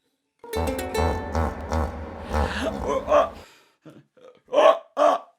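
A person imitates hiccups during a virtual zoo camp concert: a string of voiced, hiccup-like bursts with short gaps, followed by several sharper gulping hiccups near the end, close and fairly loud.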